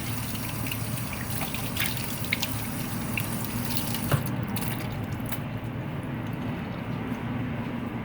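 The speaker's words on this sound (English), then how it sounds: "I'm going to wash my hands" Hands are washed under a running kitchen tap in a steady, close rush of water. Faint splashes and small knocks sound over it, and the high hiss drops away partway through, as if the flow changes. No one talks.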